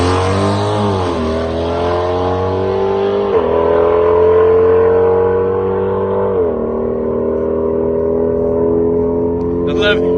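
Cammed 392 Dodge Hellcat pulling hard down a quarter-mile strip, a loud, close engine roar that climbs in pitch, drops briefly at each gear change, then climbs again through several shifts.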